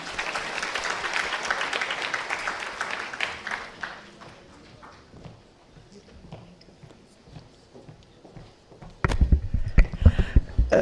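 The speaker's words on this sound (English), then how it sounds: "Another round of applause, please." A conference audience at a health event in India gives a round of applause: dense clapping at the start that thins and trails off, then a burst of louder clapping and movement near the end.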